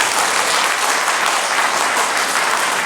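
Applause from an audience at a Quincy mayoral candidate forum, a dense and loud sustained clapping that holds evenly throughout with no voices over it.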